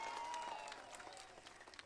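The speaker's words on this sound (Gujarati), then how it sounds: "એકવાર તાળીઓનો ગડગડાટ થઈ જાય સાહેબ" Faint applause from an audience at an Aam Aadmi Party rally in Ahmedabad, scattered claps heard at a distance, low in level and thinning out toward the end.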